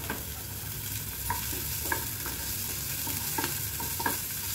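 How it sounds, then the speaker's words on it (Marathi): Sliced onion and a few garlic cloves frying in a pan until browned, a steady close sizzle with occasional stirring scrapes and no talking. "आपण कांदा टाकूया याच्यामध्ये, 2-4 लसूण पाकळ्या टाकूया आणि हे सगळं व्यवस्थित आपण ब्राऊन पेस्टवर आपण भाजून घेऊया"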